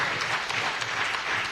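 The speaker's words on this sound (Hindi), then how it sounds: "आ जाओ बेटे, इसके लिए जोरदार तालियां।" A crowd claps loudly and steadily for a first-prize winner at a school speech and naat competition prize-giving, a dense, even wash of applause throughout.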